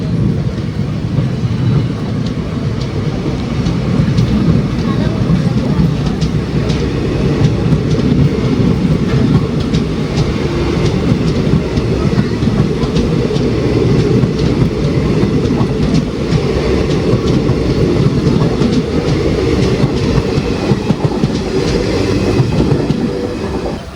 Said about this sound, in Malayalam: നമ്മൾ വന്ന വണ്ടി ഇവിടുന്ന് ഡിപ്പാർട്ടായി പാറശാലയിൽ നിന്ന്